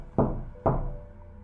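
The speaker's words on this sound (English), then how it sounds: "3 slow, deliberate knocks coming from the other side." Two slow, deliberate knocks on a door, each a distinct hollow thud with a short resonant decay, evenly spaced and close in an otherwise quiet space.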